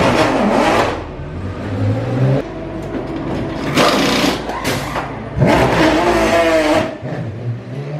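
Porsche race cars at the 24 Hours of Le Mans, several loud passes of high-revving engines sweeping by close, with a pitch drop as each one goes past and engine noise continuing between passes.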